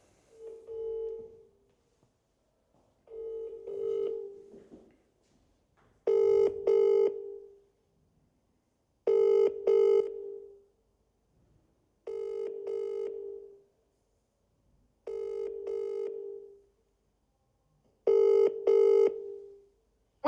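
Telephone ringing out on a call to EE voicemail: six evenly spaced double-burst rings, each pair clear and moderately loud, separated by quiet gaps, with no talking.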